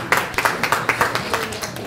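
A small audience gives a quick round of applause to welcome a presenter at a live-streamed tech talk, scattered close claps with a few distinct hits and a brief, fairly quiet run.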